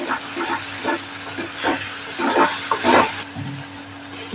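Spices sizzle and hiss in hot oil while being sautéed for a Kathiyawadi cauliflower and potato dish, in loud close bursts that rise and fall as the pan is stirred.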